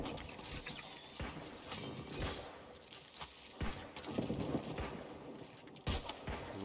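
Musket fire crackles in a war video game, a string of sharp, echoing shots scattered irregularly, some close and loud, others farther off, over a busy battlefield din.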